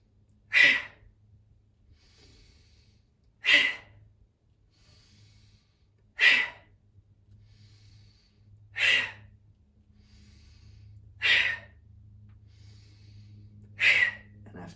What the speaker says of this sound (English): breathe in through the nose, and then we punch, twisting the fist, exhaling through the mouth